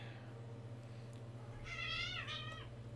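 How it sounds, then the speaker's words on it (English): Two kittens at home annoy each other, letting out a short, high meow over a steady background hum of game audio. "And my two little kittens are, well, annoying each other."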